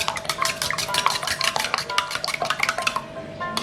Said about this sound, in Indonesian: Kita kocok lepas dengan sedikit Royco ataupun garam.